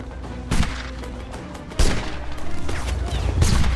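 Musket volleys in a Napoleonic Wars video game battle between Spain and the Kingdom of Italy, several ragged crackling bursts of massed gunfire, near and loud, with scattered shots between them.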